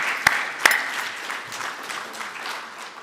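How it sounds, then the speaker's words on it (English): Conference audience breaks into applause, starting with a couple of sharp claps and settling into a moderate, fairly distant patter of hands that continues steadily. "give ourselves a hearty round of applause for this great work"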